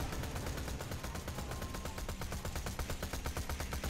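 Rapid, dense gunfire from the video game Borderlands 2 rattles on in continuous bursts of close shots, fairly quiet overall, with no speech.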